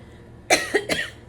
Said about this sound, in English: I've got a little bit of a cough today